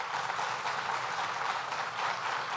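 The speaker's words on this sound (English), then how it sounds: "Let's give him another round of applause." An indoor audience at a government announcement applauds steadily and fairly loudly throughout.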